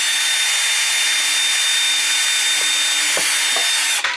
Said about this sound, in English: So what I'm going to do is the simple expedient of putting a drill through it.